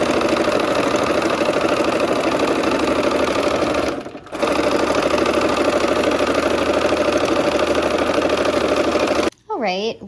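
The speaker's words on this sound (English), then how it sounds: "now we're going to connect the bear claw to the center section. All right, let's go ahead and sew." A sewing machine runs steadily while stitching the seam that joins a bear claw section to the center of a barn quilt block, a dense continuous whir that breaks off briefly around four seconds and stops near the end.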